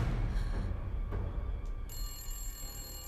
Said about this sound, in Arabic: ردي على التليفون هالمرة